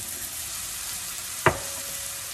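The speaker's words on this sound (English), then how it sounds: "We're going to saute this till it's about light pink, almost brown, not quite" Roasted eggplant pulp sautés in a pan with a steady, even hiss, broken once midway by a single sharp clack of a utensil against the pan.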